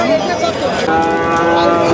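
A Sahiwal bull calf moos loudly and close by in one long, drawn-out bellow at a cattle market.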